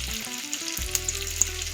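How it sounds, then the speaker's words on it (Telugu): Tempering spices, dried red chillies and curry leaves sputter in hot oil for a cabbage coconut fry, a close, steady sizzle with a few sharp pops and no one talking. "ఇప్పుడు తాలింపు దినుసులు, ఎండుమిరపకాయ, కరివేపాకు రెడీగా పెట్టించుకొని వేసుకోండి"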